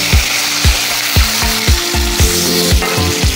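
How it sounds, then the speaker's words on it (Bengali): Paturi parcels of lata fish wrapped and dropped one by one into hot oil give a steady near sizzle, with repeated sharp low thumps and crackles recurring about every half second. "একে একে তেলে ছেড়ে দিচ্ছি।"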